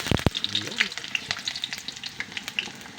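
Squid sautéing in hot oil for sweet squid adobo, a steady close sizzle with scraping stirs and sharp clinks of a utensil against the pan.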